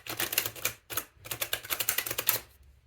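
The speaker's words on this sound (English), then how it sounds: "I'm gonna riffle shuffle this a little bit just to kind of like loosen up the cards." A deck of tarot cards is riffle shuffled up close, giving two rapid fluttering bursts of flicking card edges separated by a short pause, crisp and alone.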